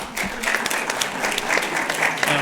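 Audience applause at a judiciary event honoring a former circuit judge: a dense, steady wash of many hands clapping that holds even and fairly loud throughout, with no voices heard.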